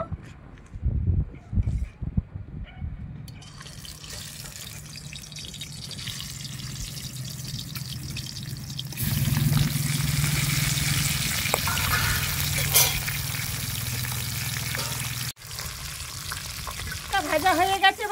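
Catfish pieces hit hot oil in a kadai over a wood or clay stove, giving a steady broadband sizzle that swells louder midway, with a few clatters and utensil sounds near the start and end.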